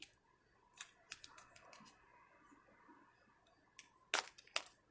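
Scissors snip at duct tape in a few sharp, sporadic cuts, quiet and close, with soft rustling of tape between them and a louder cluster of snips near the end.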